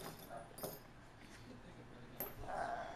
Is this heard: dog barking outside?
yes